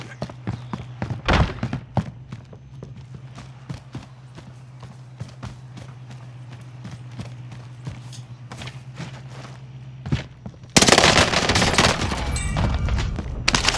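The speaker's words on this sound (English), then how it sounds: "Oh, okay, so I actually won a gunfight." A video game gunfight brings rapid gunshots cracking in quick succession over a low steady hum, ending in a louder, denser burst of fire.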